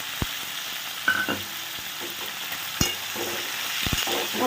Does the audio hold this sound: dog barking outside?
no